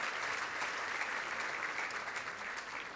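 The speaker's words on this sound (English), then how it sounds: "And a round of applause for Steve Brax." Sustained applause from a large audience at a gala dinner, a thick even wash of clapping held at a steady level throughout, somewhat distant.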